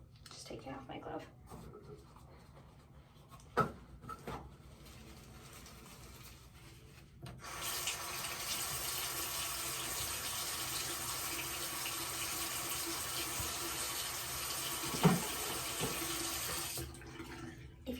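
Cold water runs from a bathroom tap into a sink, a steady rushing splash that starts partway through and continues for about ten seconds before cutting off, with quiet talk and handling noises around it.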